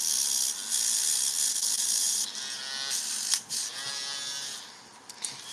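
A brush scrubs out the inside of a dirty part during repair work, a hissing, buzzing rasp that runs steadily and then eases into shorter strokes, close and fairly loud.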